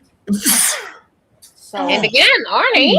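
A single sharp sneeze bursts out close and loud, followed by a pause and then someone speaking in a casual indoor setting.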